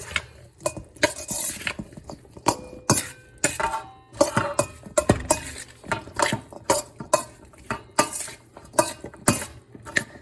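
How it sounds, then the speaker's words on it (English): Cooled quinoa salad with chickpeas, cucumber, tomatoes and feta being tossed with dressing in a bowl, heard as close, repeated clinks and scrapes of utensils against the dish in an irregular rhythm, with no speech. "Now we mix it all up."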